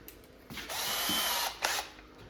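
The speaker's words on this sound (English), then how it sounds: "I think I'm gonna have to drill a hole for that one" A small power drill with a little bit bores a pilot hole in wood on a Wizard of Wor arcade cabinet, a brief whir rising to a steady high whine for about a second, then a short second burst, close and fairly quiet.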